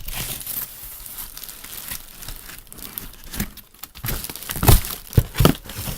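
Crinkly plastic bag packaging around an original Xbox console rustles and tears close by, building to several sharp crackling pulls near the end.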